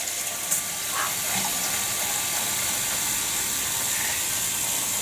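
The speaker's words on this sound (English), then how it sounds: "We're also going to be adding some water." Water pours steadily into a pot with a continuous hissing splash, fairly close and unbroken for several seconds, no voices.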